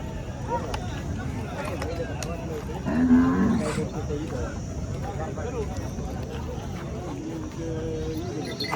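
A bull lows once, a deep, fairly loud moo, at a busy cattle market in Pathardi, surrounded by a constant murmur of people talking and general bustle.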